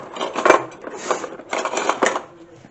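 Rummaging in a kitchen for salt and a spoon brings close clinks and rattles of cutlery and containers, including a sharp knock early on, with brief muffled shuffling between.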